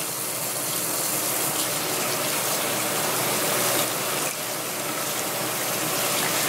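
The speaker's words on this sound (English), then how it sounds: "I'll turn my water on, and I want warm water" Warm water pours from a tap in a steady, loud gushing stream that holds the same level throughout with no pauses, close to the listener.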